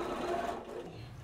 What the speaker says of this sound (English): take this to the sewing machine for the final stitching